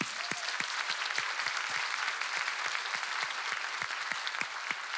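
Steady applause from a studio audience at a music-themed talk show, honoring a poet-songwriter; dense clapping runs evenly through the whole stretch with no voices on top.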